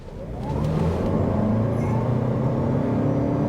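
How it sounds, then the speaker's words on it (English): A 2024 Lexus UX250h hybrid subcompact luxury SUV accelerates toward 60 mph from inside the cabin, its engine drone rising smoothly into a steady, moderately loud road rumble. "let's take this opportunity right here to accelerate to 60, hopefully"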